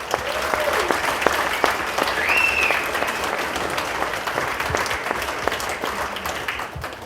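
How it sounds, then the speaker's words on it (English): Wedding ceremony guests clap for the couple in a sustained round of applause, a fairly dense, moderately loud patter with some individual claps standing out, plus a few faint voices. "So come on, let's give them a round of applause as well."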